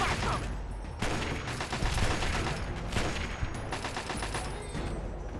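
Repeated gunfire in Fallout: Tale of Two Wastelands, rapid rifle bursts in clustered volleys across the scene, fairly close and steady, with brief pauses between strings of shots.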